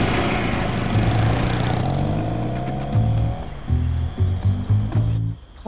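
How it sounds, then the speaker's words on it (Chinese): A loud motorcycle engine runs close by, its throbbing note climbing as it revs, then settling into choppy, uneven bursts of throttle before cutting off near the end. "我听不见他，这摩托声太大了"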